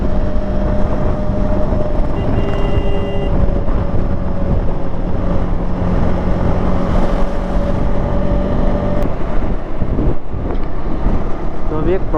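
A 2025 KTM 390 Adventure motorcycle cruises in sixth gear while its engine runs hot, giving a loud, steady engine drone under heavy wind roar that lasts throughout.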